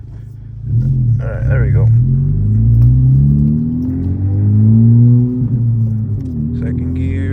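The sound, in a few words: Honda Civic Type R FL5 engine revving during rev-match downshift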